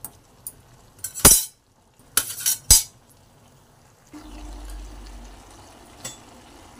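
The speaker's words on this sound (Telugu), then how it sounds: "ఒకసారి బాగా టమాటా, కొత్తిమీర వేసుకున్న తర్వాత ఒకసారి బాగా కలుపుకోవాలి" Mutton curry with tomato and coriander being stirred in a pan, with a few sharp clinks of a spoon against the metal, then a steady low sizzle.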